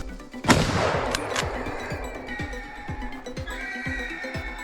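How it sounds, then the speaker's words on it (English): A single sharp rifle shot fired during a wild boar hunt on farmland, a loud close crack followed by a long fading echo, with faint rhythmic background noises afterward. "approached and fired when he was close"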